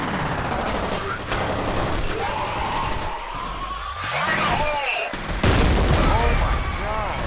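Gunfire erupts during combat in the video game F.E.A.R., a dense, continuous barrage of shots mixed with mechanical clatter and game noise, loud and close throughout.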